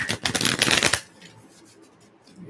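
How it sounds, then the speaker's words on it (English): Tarot cards being shuffled in a quick, loud riffling burst for about a second, then a quieter stretch of soft handling sounds and light rustling. "I'm really, really going to shuffle these"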